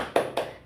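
Two sharp claps spaced apart in a children's classroom cheer, close and fairly loud with a brief pause between them.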